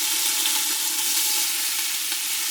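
Shredded pork sautéing in olive oil inside an Instant Pot, a steady, close, loud sizzle and crackle of frying meat with no talking.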